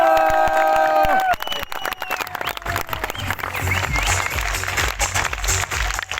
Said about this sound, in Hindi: मैं चाहता हूं आप लोगों से अब तक की सबसे जोरदार तालियां